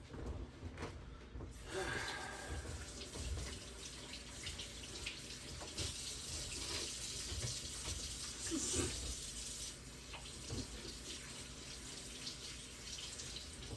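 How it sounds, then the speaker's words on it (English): Hands are rinsed under a running kitchen tap while breaking down a chicken, a faint steady stream of water splashing continuously for several seconds, with a brief clatter near the start. "Wash my hands off."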